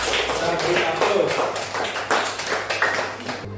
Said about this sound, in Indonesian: Tepuk tangan dulu untuk Cika dan Rama ya. Kita beri aplaus.